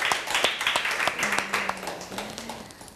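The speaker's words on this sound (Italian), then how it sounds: "gli facciamo un bel applauso per la pronta guarigione" Children in a TV studio clapping together, a brief, moderately loud burst of applause that fades, with a faint hum and murmuring underneath.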